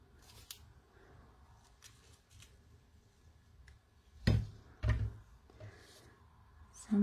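Scissors snipping through paper for a mixed media card, a few sharp close cuts scattered across a quiet room, with two louder crisp snips near the end.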